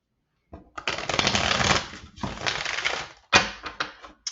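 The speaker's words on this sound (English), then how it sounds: "And let's get a nice shuffle." Tarot cards being shuffled by hand, several crisp riffling bursts separated by short pauses, close and clear with no talking.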